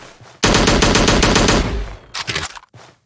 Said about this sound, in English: I definitely need to work on the sounds of the shotguns